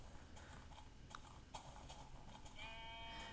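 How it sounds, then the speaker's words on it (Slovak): Sheep bleats from Minecraft, heard as a few short, fairly faint game cries over a steady background hum, with a sustained tonal game sound near the end. "Ale niekde som tu videl ovce."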